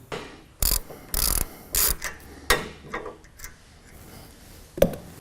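Short bursts of a hand ratchet loosening bolts on an internal carriage, several quick clicking runs with pauses between them, close and alone.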